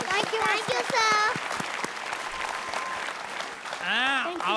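Hand clapping at a Tamil children's talent show performance, with sharp claps early on, mixed with loud voices talking over them.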